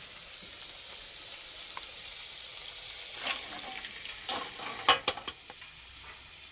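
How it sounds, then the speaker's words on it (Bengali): Potatoes frying in a pan for an egg and potato curry, a steady soft sizzle with several louder stirring scrapes clustered toward the end. "আলু বেশ লাল করে ভেজে নিয়েছি"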